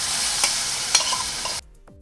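Poha with turmeric stirred and frying in a hot pan gives a bright, close sizzle with a few scraping stirs, then cuts off abruptly, leaving a brief faint clink.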